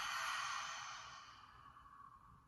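A long, soft open-mouth exhale during seated yoga breathing starts as a breathy rush and gradually fades away, alone and close.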